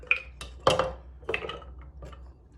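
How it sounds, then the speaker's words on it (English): Half a cup of cashews goes into a small blender jar for a raw vegan Caesar dressing, making a few close, sharp clinks and clatters in short bursts, with no talk. "So I have a small little blender, and I'm going to put my cashews in here"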